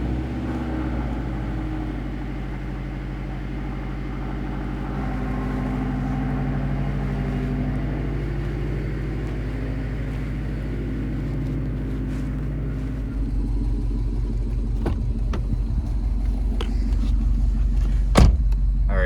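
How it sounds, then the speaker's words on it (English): A Subaru WRX STI with a newly installed HKS Super SQV4 blow off valve idles steadily with a low, even rumble, then the engine note deepens and clicks and a brief sharp sound appear near the end, close and without speech. "so far the idle sounds pretty good, pretty normal"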